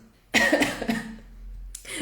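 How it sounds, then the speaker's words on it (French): A sharp, forceful cough close to the listener, followed a moment later by the start of another cough. "cette toux est tenace"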